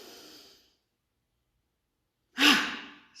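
Two exhaled breaths pushed out through the mouth during a guided meditation breathing exercise, the first soft and trailing off, the second a louder, close airy sigh after a stretch of near silence.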